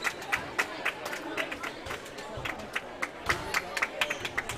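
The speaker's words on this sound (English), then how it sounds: "I think we got some kids in front of us that feel like clapping" Scattered clapping from kids in the crowd at a teen tournament playoff game, light and uneven, with sharp claps popping over a murmur of crowd chatter and nearby talk.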